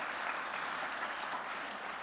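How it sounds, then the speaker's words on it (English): Brief, steady applause from an audience at a high school athletic signing ceremony, an even wash of clapping at moderate-to-low level with no talk over it. "Give Stephanie a round of applause"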